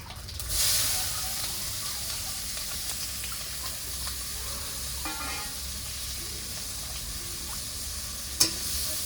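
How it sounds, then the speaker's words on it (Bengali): Dried red chillies, whole cumin and chopped onion fry in oil with a soft, steady hiss and sizzle, occasional light stirring scrapes and one sharp clink near the end. "শুকনো লঙ্কা আর দিয়ে দেবো গোটা জিরে, কেটে রাখা পেঁয়াজ"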